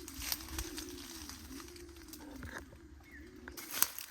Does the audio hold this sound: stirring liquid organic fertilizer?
no